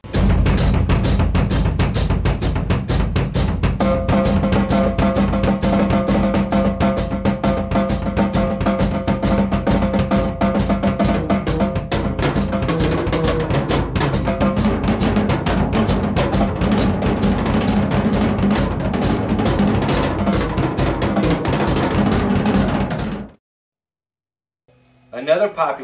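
A drum kit plays a continuous pattern with hi-hat and bass drum on steady eighths under triplet rolls and drags. The dense, driving hits are close and loud for over twenty seconds, then stop abruptly.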